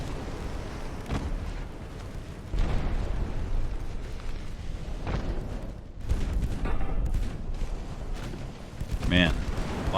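15-inch naval guns fire in the video game Ultimate Admiral: Dreadnoughts during the Battle of the Denmark Strait, with several heavy booming blasts spaced over the clip above a continuous rumbling battle background, and a voice talking over it.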